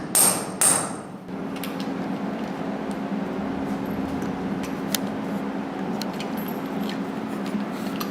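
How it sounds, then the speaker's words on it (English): Anchors being hammered into drilled wall holes during installation of a fan coil unit: sharp metallic taps, a few loud strikes near the start, then lighter knocks over a constant mechanical hum. "he put it and he is hammering with the tool."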